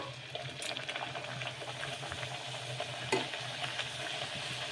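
Puri frying in hot oil inside a pressure cooker gives a steady close sizzle and bubbling, with faint scraping from stirring and no talk.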